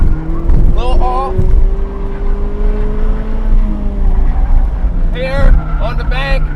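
A 2016 Mazda ND on Hankook RS4 tires revs hard on a race track, its engine droning steadily and rising in pitch through shifts, with a driver talking throughout over the close, loud engine noise.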